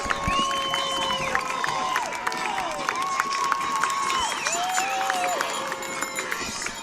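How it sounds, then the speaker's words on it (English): Avon Braves high school football fans cheering at a Section V game against C-M/B-B, a sustained crowd roar with shouts and tonal horn-like calls over it. "And listen to these Braves fans. They know they're on their way to victory once again."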